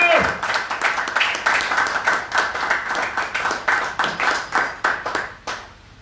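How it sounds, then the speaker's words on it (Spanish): Congregation at a church service claps in a quick, rhythmic unison beat, loud and close, a regular series of hand claps that tapers off near the end, with faint voices mixed in. "Denle un aplauso a Dios."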